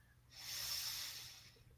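A single long, deep breath drawn in during a guided chakra breathing exercise, a soft airy hiss that swells and fades over about a second, quiet and close with a low hum underneath.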